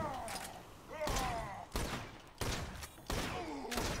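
Repeated bursts of explosions and gunfire from the video game Borderlands 2 land roughly every second, loud and booming, with a voice talking between the blasts.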